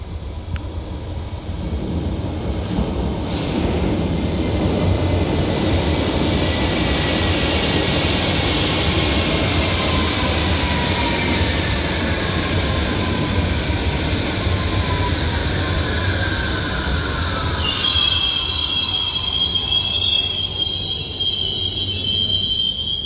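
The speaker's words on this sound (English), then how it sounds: "this is one of the new underground trains I was on about, very, very recently delivered" A newly delivered Berlin underground train runs loud and close, its rolling rumble steady throughout, with high metallic wheel squeals rising near the end.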